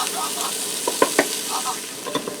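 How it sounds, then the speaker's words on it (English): Onions sautéing in a Ninja Foodi multicooker, a steady close sizzle with a few sharp scraping stirs of a utensil, no voices. "I'm going to go ahead and saute this for a few minutes"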